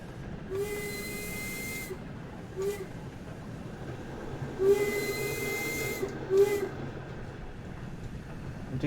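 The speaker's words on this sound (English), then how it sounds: "I do love the whistle." Steam locomotive whistle in the Train Sim World 2 game, two long-short pairs of loud shrill blasts over a steady hiss and rumble of the engine, no talking.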